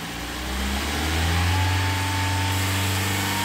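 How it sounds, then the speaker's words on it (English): Car engine on a vacuum test, given a quick throttle blip: the idle swells into a rising rev whose pitch climbs smoothly and holds, close and loud with no talk over it. "let's rev it up. Just a throttle blip."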